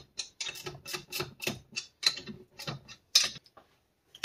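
Ratchet wrench tightening the top-end bolts on a 49cc to 100cc motorized bike engine, a close series of quick clicking ratchet strokes in short uneven bursts with brief pauses between them, and no talking.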